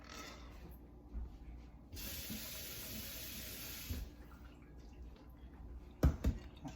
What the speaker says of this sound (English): you're also going to run some cold or lukewarm water over that